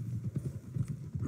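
Horse hooves clip-clop at a steady, close rhythm on the ground in Red Dead Redemption 2, sounding clear and full without talk.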